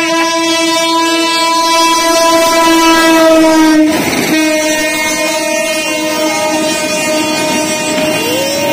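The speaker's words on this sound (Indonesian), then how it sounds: "Ada kereta api datang, Dek." A passing train sounds its loud, sustained multi-tone horn close by, with a sharp rattling burst midway. The horn continues over the rumble and clatter of the wagons.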